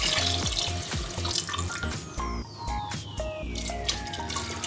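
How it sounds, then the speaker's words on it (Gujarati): Two jugs of water, about a litre in total, poured into a cooking pot of khichdi, a steady close splashing and gurgling stream with a few drips, no voices. "આપણે આ 2 જગ પાણી નાખીશું"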